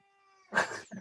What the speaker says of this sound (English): And on cue, my cat is here telling us.